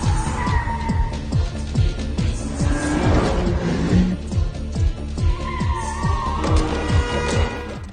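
A car in an action film tears through marble statues. Its loud engine roar and screeching tires are mixed with a driving, rhythmic score and crashing impacts throughout.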